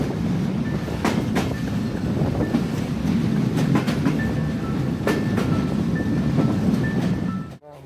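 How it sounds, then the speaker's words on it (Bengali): A passenger train runs on the rails toward Sitakunda station in a steady, loud, close rumble, with rhythmic clickety-clack of wheels over rail joints and a thin high squeal recurring throughout. "আমাদের ট্রেন সীতাকুণ্ড রেল স্টেশনে এসে পৌঁছে গেল।"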